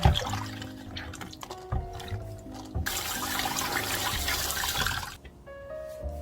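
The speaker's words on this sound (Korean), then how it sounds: "3분 정도 헹구어 소쿠리에 건져 흐르는 물만 빼줍니다." Jujubes are rinsed in water and tipped into a draining basket, giving continuous splashing and trickling water with intermittent knocks and rattles, fairly close and steady throughout, with no talking.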